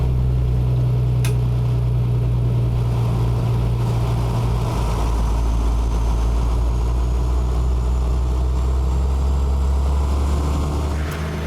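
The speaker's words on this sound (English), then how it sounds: "it bugs me, that automatic Jake and not being able to shut it off" A truck's automatic Jake engine brake in American Truck Simulator, with a steady, loud low engine drone and rumble that shifts pitch partway through and continues throughout with no talking.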